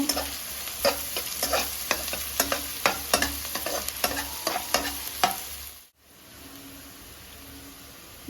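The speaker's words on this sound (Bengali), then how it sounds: "পেঁয়াজটা একটু নেড়ে নেব" Chopped onions are stirred and fried in a pan for mushroom masala, giving a steady sizzle with regular rhythmic scraping strokes of a spatula against the pan, then a brief pause before a softer, quieter sizzle resumes.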